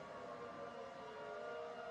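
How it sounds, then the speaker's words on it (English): Rotating electromechanical civil defense tornado sirens wail in a steady, sustained tone, faint and distant, with layered pitches hanging together and no voices present. "You're getting like a couple sirens that are rotating around, little Doppler effect action, creating different pitches and noises"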